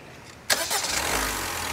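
A 2019 Honda Amaze top-model car cranks and fires up after a brief quiet moment, the starter catch giving way abruptly to a steady close engine running on its own.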